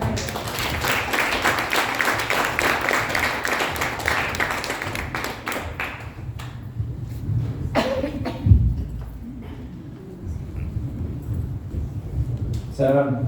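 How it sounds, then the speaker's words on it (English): Audience applause after a talk comparing Vedanta and Saiva Siddhanta philosophy: a dense, steady wash of clapping for about six seconds that tapers off, followed by scattered sounds and a brief voice. "Let's give him another round of applause"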